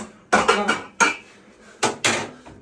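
Dishes and cutlery clatter as a table is set in a home kitchen before a Christian song evening, with vareniky, fried onion and homemade salo being served: several sharp, close clinks and knocks in bursts, with no talk.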